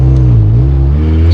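A Honda car after an axle replacement pulls off under full acceleration, a loud close engine drone with a rising tone held for a moment.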